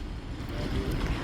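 A boat pulling away across the water near the Golden Triangle, a short burst of steady engine and water wash mixed with wind noise, no voices.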